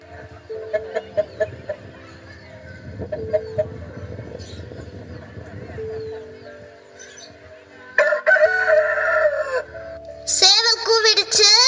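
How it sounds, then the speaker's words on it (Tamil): During a school annual-day drama, a rooster's crow rings out loudly toward the end, after quieter stage sounds, shuffling and a brief harsh squawk. "சேவல் கூவிடுச்சு."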